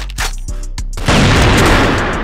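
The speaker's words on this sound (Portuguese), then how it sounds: "Eu dei um tiro nele" Gunfire in a competitive shooting video game: a few sharp, quick shots land in a row, then a louder, sustained burst of booming fire follows.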